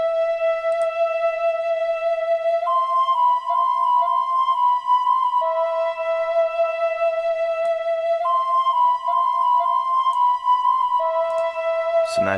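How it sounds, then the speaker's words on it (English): Expand 2 Flute plus Ocarina patch, a breathy woodwind synth, plays a repeating melodic phrase of held notes stepping up and back, steady and clear with no voices. "This is the flute that I use for the chorus. It's Expand 2, Flute plus Ocarina."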